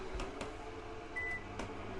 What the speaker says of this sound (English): Let's put this microwave on again.